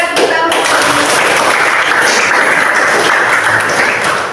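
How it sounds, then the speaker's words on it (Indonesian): Applause from a classroom of students, a dense, steady wash of many hands clapping at close range throughout, with a brief voice at the very start. "Kita berikan tepuk tangan."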